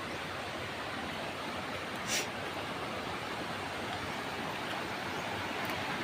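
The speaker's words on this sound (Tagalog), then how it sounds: "Ayun doon yung falls doon," Steady broadband rush of Canding Falls and its river, a continuous close wash of falling and flowing water heard alone with no voices.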